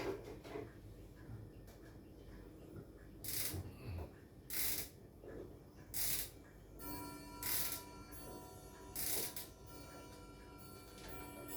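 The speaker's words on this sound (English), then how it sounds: "I will wind the clock a little bit so probably you hear it better." Someone winds a 1925 French Vedette dual chime clock, a faint ratcheting of gears and clicks broken by several evenly spaced bursts of scraping winding sound.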